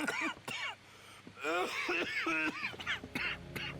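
A video game character in Red Dead Redemption 2 coughs and clears his throat in short, rough bursts, mixed with brief vocal sounds, fairly close and moderately loud.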